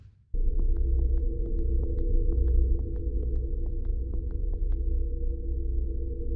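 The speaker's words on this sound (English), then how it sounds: "What is this humming I'm hearing? Oh, they're coming from you." Characters in Blackshard give off a steady, low droning hum that starts abruptly and holds loud and unbroken, with faint regular pulsing blips riding on top.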